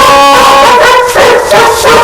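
Many dogs from a household of 43 bark and yip together, a loud, dense chorus of overlapping barks and whines that fills the whole stretch with no pause.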